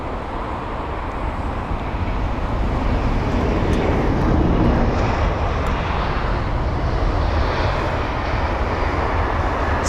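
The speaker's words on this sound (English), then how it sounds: "Oh, in fact, the next 3 aircraft, including this one, are going to be A320 Neos." An Airbus A320neo arriving at London Heathrow makes a loud, continuous broadband roar that swells slightly toward the middle and holds steady throughout.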